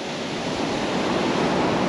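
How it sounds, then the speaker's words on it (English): Big ocean waves crash and roar nearby, throwing off mist, a loud, steady wash of surf noise that swells slightly toward the end. "The big waves are like, rah."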